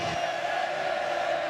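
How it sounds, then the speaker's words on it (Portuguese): Grêmio football supporters in a stadium crowd roar steadily with applause and singing during a Grêmio versus Corinthians Brazilian championship match, a dense continuous wash of crowd noise without clear individual voices. "Torcedor do Grêmio aplaudindo a equipe, cantando."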